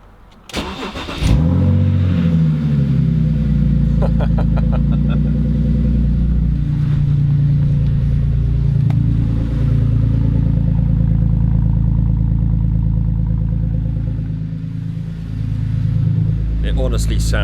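A BMW Z4 cranks and fires in a cold start, flaring briefly, then settles into a deep, steady, throaty idle that stays loud and close, rising slightly near the end.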